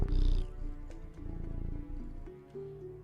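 Cats purring in a fantasy supermarket simulator game, a low continuous rumble running steadily through the moment alongside soft background game music, with no talk over it.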